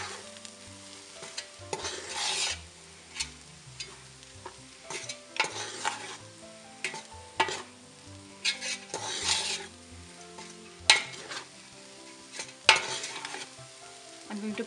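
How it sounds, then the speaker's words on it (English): Ground chicken frying with onions and spices for chili, a sizzle broken by frequent rhythmic stirring scrapes and clanks of a utensil against the pan, close-up with no talking. "I put in the chicken, the ground chicken. and fry it along with the onions"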